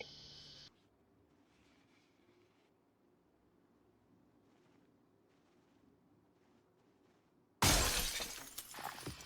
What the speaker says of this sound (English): Hearing the sound of shattering glass, I decided it best to go out and investigate whatever was making the noise.